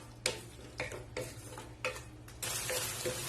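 Crushed green turkey berries sautéing in oil, with a spatula striking and scraping the pan in a regular rhythm of about six strokes over a soft sizzle. The sizzle swells to a louder fry near the end, close by with no voices.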